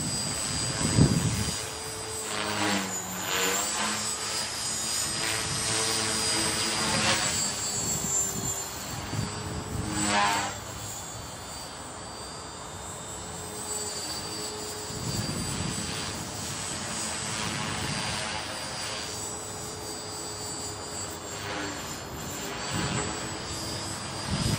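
A Trex 450 PRO RC helicopter runs at full throttle outdoors in a park, a loud, steady high-pitched rotor and motor whine with tonal bands that waver slightly as the pitch changes, close by with no talk.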